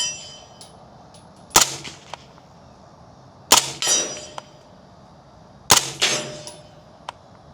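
Suppressed pistol fired with a Century AP5 SD suppressor, originally made for an HK P7, shooting 147-grain loads: three sharp, muffled cracks spaced about two seconds apart, each followed by a metallic clank and a short ring, with no speech.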